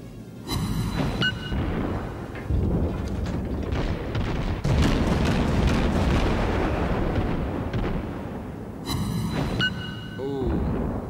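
Ship guns firing in the naval video game World of Warships, deep booming salvos and rumbling blasts rolling over one another at steady loudness, with brief chiming interface tones at start and end.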